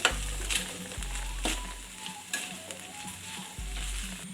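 Grated coconut and curry leaves roasting in a pan over a medium flame for Kerala sambar give a steady, close sizzle, with intermittent low scraping thumps from stirring.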